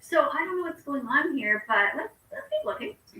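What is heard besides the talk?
No distinct noise like a dog, phone or traffic.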